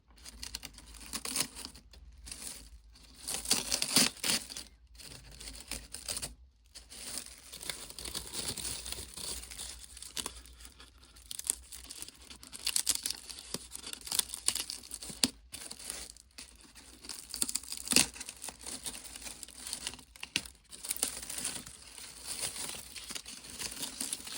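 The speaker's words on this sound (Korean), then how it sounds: "바스락바스락 포장지 소리가 좋네요." Diary wrapping paper crinkles and rustles up close in irregular bursts, with sharper tearing and crumpling sounds scattered through a long stretch of handling.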